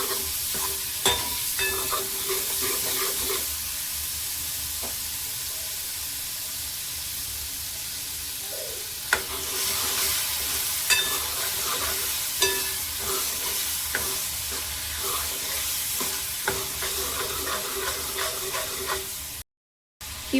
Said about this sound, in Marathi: ही मटकी आपण तेलामध्ये 1 मिनिटभर परतली आहे